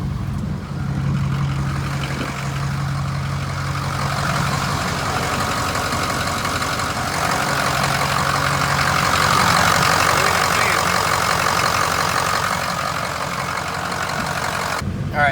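Heavy truck engine idling with a weak, slipping fan clutch and very high air-conditioning pressures, a steady loud low rumble with a whirring cooling fan running continuously throughout.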